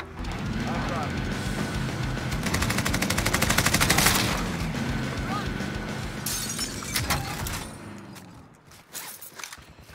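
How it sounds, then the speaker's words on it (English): Automatic gunfire in the Call of Duty Warzone video game, Zombie Royale mode in Verdansk, a rapid rattling burst building to a loud stretch, then scattered shots and impacts while players talk over it. "Being shot."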